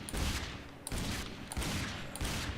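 Rapid bursts of gunfire from a horror video game, several volleys in quick succession with short gaps, loud and close throughout.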